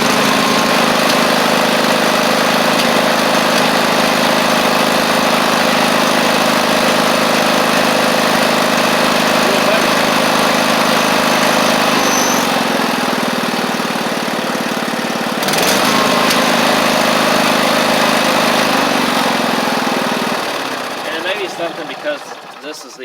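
A Husqvarna YTH24V48 riding mower with carburetor trouble runs steadily and loud for about twenty seconds, its engine drone briefly dipping and surging, then fading out near the end.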